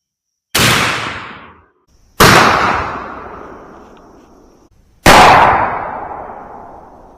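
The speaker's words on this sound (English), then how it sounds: "here's our final shot with the 9 pellet double aught buck Federal Flight Control" Three loud, close 12 gauge shotgun blasts firing 9-pellet Federal Flitecontrol 00 buckshot through standard-length shells, each a sharp crack followed by a long decaying echo, spaced about two seconds apart with no talking.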